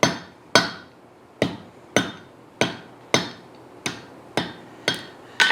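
A hammer strikes 3/8-inch steel bar at a forge about ten times at a steady pace, cutting off a two-inch length. Each blow rings sharply and decays quickly.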